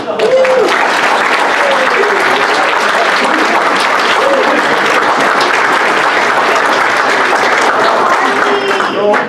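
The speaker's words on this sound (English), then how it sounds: "A round of applause, please, for Harley Chapel" A large audience at a Surrey economic leadership luncheon breaks into sustained, loud applause welcoming the Chief of the Semiahmoo First Nation to the stage, steady dense clapping with a few voices mixed in throughout.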